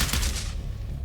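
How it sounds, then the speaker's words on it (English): A burst of far-off gunfire crackles in a rapid flurry of shots during a tabletop roleplay story set outdoors, fading after about half a second into a low dull rumble. "You hear the gunfire. It's very distant, but you hear it."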